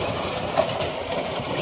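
A tractor engine running a rotavator in a field, a steady close mechanical rumble and drone that holds even throughout with no voices.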